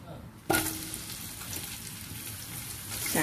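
Sizzling of lemongrass dropped into hot oil, starting abruptly after a brief quiet moment and continuing as a steady, crackling hiss close by.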